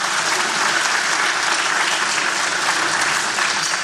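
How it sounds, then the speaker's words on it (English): An audience at a political speaking event keeps up steady, dense applause from beginning to end, loud and even with no pauses or talk over it. "we give Brian another round of applause"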